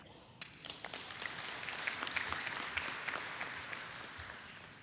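Audience applause at a creatives indaba gathering, a dense, steady patter of many hands clapping that swells slightly and carries on throughout without voices.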